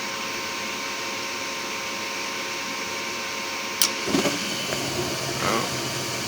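A gas furnace runs with a steady mechanical hum as its burner ignites, a soft whoosh and brief rumble of flame catching midway, with a short click just before.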